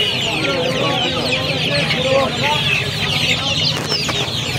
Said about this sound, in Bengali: বাংলাদেশি মুরগি।